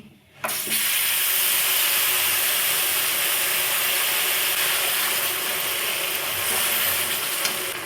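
Ground spice paste hits hot oil with nigella seeds and dried chilli for a Bengali hilsa fish dish, bursting into a loud, steady, close sizzle that keeps going after a brief quiet start.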